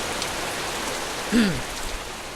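Heavy rain pours down in a steady, close hiss with a brief louder swell midway and no speech.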